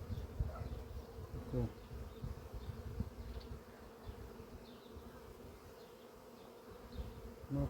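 Honeybees buzz steadily around an open hive during a colony inspection, a soft, continuous drone with occasional closer passes, heard alone without talk.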